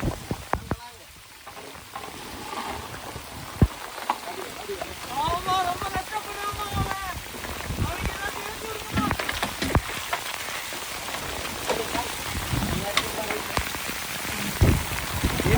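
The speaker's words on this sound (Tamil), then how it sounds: "காத்து மழையும் கணீர் கணீர்னா கிடக்கு" Heavy rain patters densely on a surface with gusty wind in Rameswaram, while fishermen talk over the downpour.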